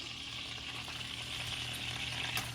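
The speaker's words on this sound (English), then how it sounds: "What I'm going to do is I'm going to put the pork chops in." Pork chops sear in melted butter in a hot pan, giving a steady, close sizzle that holds evenly throughout with no talking.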